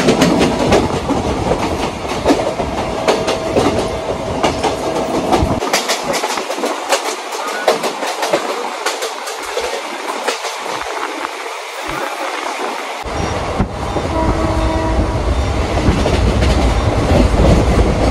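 A passenger train running on rails on the way toward Tarapith, a loud continuous rumble with rhythmic clickety-clack, the low roar briefly dropping away mid-clip before returning.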